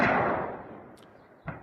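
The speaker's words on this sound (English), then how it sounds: "We hear a couple of small explosions" Small explosions at an ammunition depot in Crimea, heard as a sharp distant blast that fades out, then a second, quicker bang just under two seconds later.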